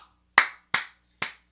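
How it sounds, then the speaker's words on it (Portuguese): Three sharp hand claps, loud and close, spaced about a third of a second apart in a simple slow rhythm, with silence between them. "Imitem as minhas palmas assim"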